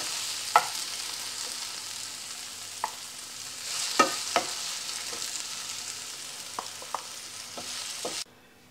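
Spice masala dry-roasting in a pan until browned, giving a steady low hiss with scattered sharp clicks and scrapes from stirring, then cutting off abruptly near the end.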